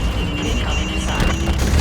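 A missile blast in the sci-fi shooter Call of Duty: Infinite Warfare, a heavy, sustained rumbling boom with crashing debris that stays loud and dense throughout, with no voices over it.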